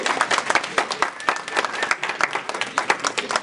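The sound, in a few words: audience applause for Dr. ESPER Hayes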